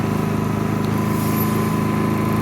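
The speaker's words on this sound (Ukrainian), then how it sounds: "ви чуєте, так, як працює двигун набагато тихіше, ніж це було в звичайного генератора" A Zipper ZI-STE 2000 IV inverter generator engine runs at a steady idle, a constant low hum with an even throb that continues without change.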